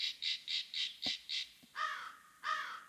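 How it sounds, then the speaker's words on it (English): Six quick evenly spaced bird chirps are followed by two longer harsh crow caws, fairly close and clear over a quiet background with a couple of soft knocks. "I hear birds."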